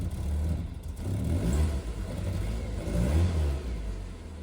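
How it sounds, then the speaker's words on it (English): A cheap scrap car's engine, just started from cold, revving in uneven low-pitched surges under the open bonnet, moderately loud with a rough rumble throughout. "So she started kind of with some revs from a cold start as such."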